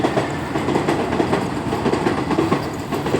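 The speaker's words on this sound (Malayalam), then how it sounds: "പെട്ടെന്നൊരു ട്രെയിൻ പോകുന്നത് കണ്ടു" A train rolls past nearby, a loud steady rumble with rhythmic clickety-clack of wheels on rails throughout, no voices.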